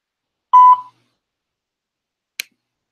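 A single short electronic voicemail beep tone signals the start of recording a message. It is clear and steady, followed by silence and one brief faint click, with no voices.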